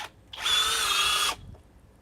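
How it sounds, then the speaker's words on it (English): A powerful cordless drill on a small flex battery runs in turbo mode, giving one loud, close, high-pitched whine that lasts about a second before stopping abruptly. "This is one of the most powerful drills in the world."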